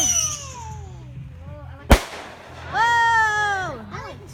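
Outdoor fireworks whistle and whine, then one sharp loud bang cracks close by, followed by more rising and falling whistling squeals against a low background rumble.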